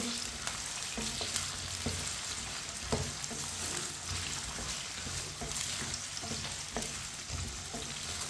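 Potatoes sizzle steadily in hot oil in a pan, with a spoon scraping and stirring them in repeated short clacks and shuffles throughout, close and fairly loud.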